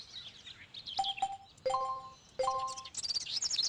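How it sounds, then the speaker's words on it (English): Repeating birdsong ambience from the Mega Man Legends video game, with clear whistled notes and high twittering chirps coming in quick bursts, close and prominent over a soft outdoor background. "Those birds, every time you're outside, are super loud, and it's the same audio clip over and over again."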